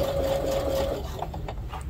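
Close, steady whirring and rapid needle thumping of a sewing machine stitching fabric for a garden kneeling pad, stopping briefly near the end with small mechanical clicks.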